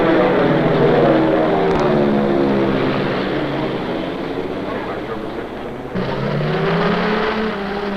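A propeller airplane taking off from Orange County Airport's runway 19 left around 1970, a loud, steady engine roar with a slight shift partway through, heard close and alone.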